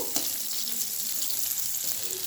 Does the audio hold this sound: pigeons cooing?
no